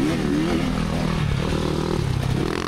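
A 1986 Honda CR250 and a Yamaha YZ dirt bike racing on a motocross track, a loud continuous two-stroke engine drone close to the microphone with shifting pitch and rattly clatter, no talking.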